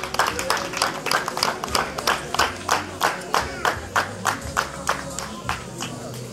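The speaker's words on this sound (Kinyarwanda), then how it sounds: "natwe abavandimwe bacu tubahe ikaze tubaha amashyi" Wedding guests clapping together in welcome, a loud, near, rhythmic run of roughly two dozen evenly spaced hand claps with a crowd murmuring beneath.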